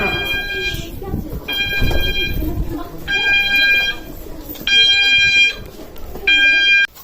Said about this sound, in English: I can show an example of my school fire alarm here.